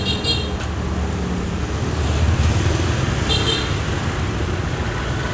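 Busy Hanoi street traffic with motorbikes and cars streaming past close by, a continuous loud engine rumble and road hiss, with faint horn-like tones over the steady drone.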